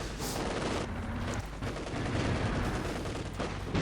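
Gunfire in Company of Heroes, a World War II strategy game, as infantry shoot at a retreating unit: loud, continuous rattling shots and bursts with battle noise and no pauses between them.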